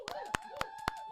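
Studio audience clapping to welcome a financial planner guest on a talk show, a brief burst of a few distinct claps, fairly faint, with a sustained tone underneath.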